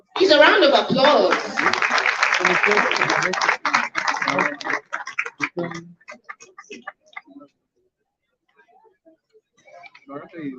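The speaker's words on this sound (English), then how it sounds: "Please, a round of applause." Applause from the audience at a Labour Party women's town hall meeting in Abuja, dense clapping at first that thins into scattered claps and fades to near silence.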